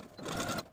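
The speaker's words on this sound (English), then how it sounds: "you're going to edge stitch close to this inner fold all the way across" Sewing machine edge stitching fabric in one short, close mechanical whirring burst that ends abruptly.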